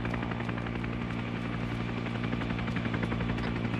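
A helicopter in the video game Arma 3, Vietnam setting, throbs with steady rotor chop and engine drone, moderately loud and continuous, no talk.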